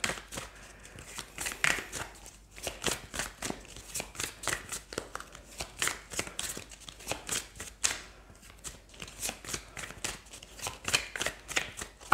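Oracle cards shuffled by hand in a rapid, continuous run of crisp riffling flicks, fairly close and quiet.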